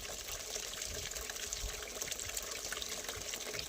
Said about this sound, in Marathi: बॅलर धुवून आता परत भरायला लावलं आहे